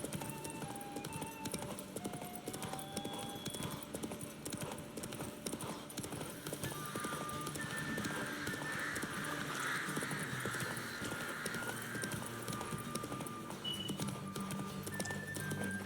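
Horse hooves gallop in The Witcher 3: Wild Hunt during a horse race, a quick steady clip-clop rhythm running continuously at moderate, somewhat faint level with game music underneath.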